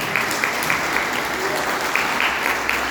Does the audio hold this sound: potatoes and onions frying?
no